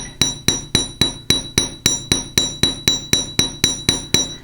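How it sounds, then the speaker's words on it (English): Steady metallic tapping of a chasing hammer on wire on a steel bench block, hardening earring wire, about four strikes per second, each hit bright and ringing, close and alone. "on a steel bench block and using my chasing hammer, I'm just going to tap here"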